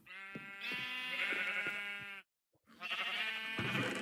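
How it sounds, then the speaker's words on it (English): In a Minecraft wool farm, close sheep bleat loudly in two long, quavering calls separated by a brief silence, with no voices. "we worked hard to get those sheep in there."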